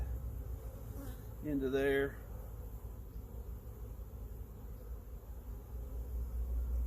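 Honey bees buzz in a low, steady drone around hive frames in a two-frame mating nuc, with one louder buzz swelling briefly as a bee passes close.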